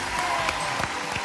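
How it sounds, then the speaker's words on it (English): A game show studio audience applauds, a short, continuous burst of clapping at steady volume. "Why do you applaud yourself?"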